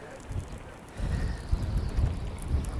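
Gusty wind buffeting the microphone beside a river while fishing, low rumbling bursts rising and falling, fairly loud and close.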